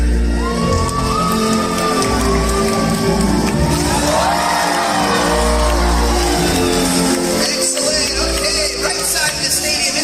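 A large audience cheers and shouts for Nalani, a performing animal doing a belly breach at a live show. The roar of whoops, yells and some applause is loud and continuous throughout, with music playing underneath.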